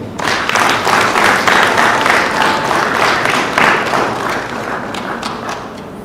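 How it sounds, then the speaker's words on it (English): Conference attendees give a loud round of applause for a panelist, thick clapping with some heavy thuds that peaks early and then slowly tapers off. "a big round of applause for Dr. Chakwa Kasoma"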